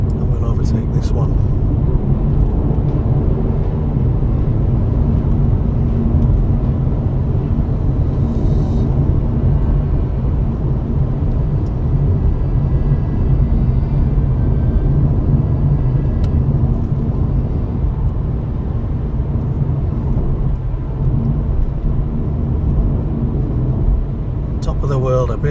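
Continuous low road rumble and engine drone inside a 2023 Audi A5 Sportback S-Line 45 TFSI quattro as it overtakes on the M62 motorway, steady and loud with little variation.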